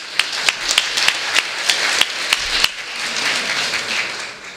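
A lecture hall audience at a large humanist talk claps, with sharp individual hand claps standing out over a continuous wash of applause that fades slightly toward the end.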